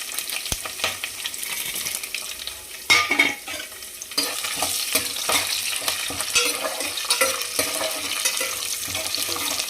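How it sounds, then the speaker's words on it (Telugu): Mustard seeds, cumin, curry leaves, chana dal and urad dal fry in hot oil while a spoon stirs the pan, giving a steady close sizzle with scraping strokes and a sharper burst of crackling midway. "ఇలా మంచిగా ఫ్రై చేసేసుకోవాలి."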